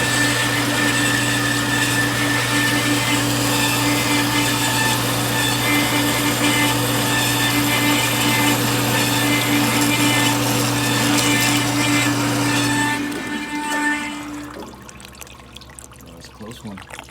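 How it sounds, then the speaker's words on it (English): A power saw cuts through a copper Catan brick hex with a loud, steady whining buzz and tonal ring that holds for about thirteen seconds, then cuts off and winds down into quieter clatter. "Stop the saw in time."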